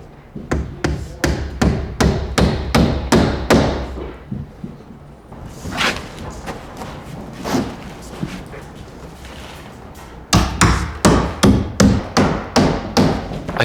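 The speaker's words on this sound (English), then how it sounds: "I fasten the edges all the way around as I form the panel around the curve." Drywall panel being fastened around the edges as it is bent onto a curved wall: sharp, rapid hammer-like blows in quick rhythmic bursts, close and loud, with a quieter stretch of softer handling noise between the bursts.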